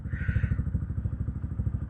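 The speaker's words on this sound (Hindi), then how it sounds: "बाइक वार्म अप कर ली है। अब निकलते हैं सीधा जाना फॉल्स के लिए।" A warmed-up motorcycle engine idles and pulls away on a ride near Manali, a steady close, loud, rhythmic thumping with a brief higher whir at the start and no talking.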